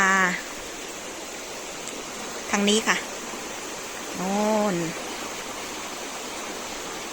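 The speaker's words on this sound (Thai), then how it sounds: "ได้ยินเสียงน้ำตกไหมคะ เนี่ยค่ะ มันจะเป็นลำธารนนะคะ" A stream fed by a waterfall at the Teen Tok Royal Project flows beside a footbridge, giving a steady, even rush throughout while someone speaks briefly over it.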